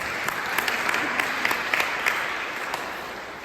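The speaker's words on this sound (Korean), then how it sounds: "박수로 환영해주십시오" A church congregation applauds in welcome of first-time visitors during a Sunday service, a steady even wash of many hands clapping throughout.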